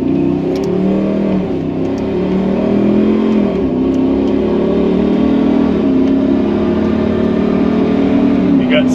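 A Hemi-swapped 2007 Jeep Wrangler with an 8-speed transmission pulls hard from a stop. The deep V8 roar climbs through several upshifts, loud and close, from inside the cabin.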